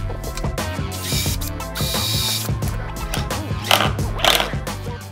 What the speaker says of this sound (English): I'm trying to get one screw into the clamp extension thingies.